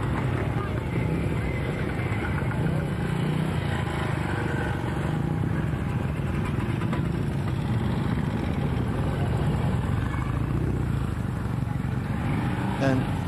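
Old motorcycles run their engines at a street festival, a continuous low rumble of idling and revving machines with crowd noise and a voice talking over the top.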